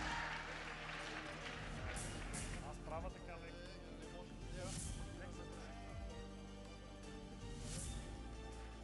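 Applause and crowd noise at an outdoor political rally in Bulgaria, a steady rumble of clapping and cheering that runs under a loud amplified voice speaking over it throughout.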